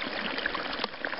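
Snowmelt water trickles high on Silver Star Mountain where a bottle is being filled, a steady close burbling stream without talking.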